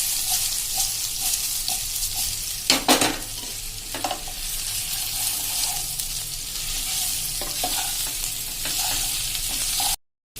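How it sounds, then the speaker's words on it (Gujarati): Bottle gourd muthiya dhokla being tossed and stirred in a pan of sauce, a continuous crackling sizzle close by with occasional scrapes of a spoon against the pan, ending in a brief cut to silence. "હવે એને આપણે આ રીતે સોસ કરીને બધું મિક્સ કરી લેશું."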